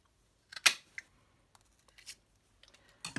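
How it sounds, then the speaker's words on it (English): Scissors snipping a small circle from leftover decorative paper scrap, a few sharp close cuts and crisp paper rustles spaced irregularly, with brief quiet gaps between. "out of the little bits of scrap that were left over, I'm going to cut a 3/4 inch circle."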